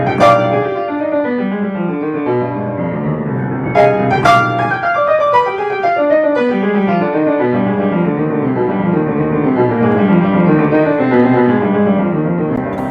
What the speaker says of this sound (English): the notes should be pretty even and it should sound something like this